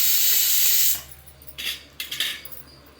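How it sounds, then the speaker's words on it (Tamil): Black pepper, cumin and ginger go into hot fat with cashews for a ghee pongal tempering: a loud hiss that cuts off after a second, followed by a few shorter bursts of sizzling spatter close by. "இப்போ வந்து மிளகு ஜீரகத்தை போடணும், இஞ்சியை போடணும்"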